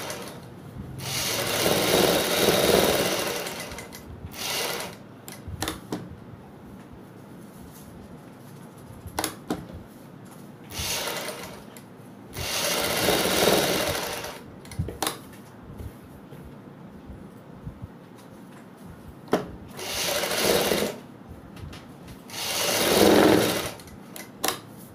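A sewing machine stitches the neckline of an angrakha-style suit in repeated bursts of close, buzzing running, separated by quiet pauses and small handling clicks.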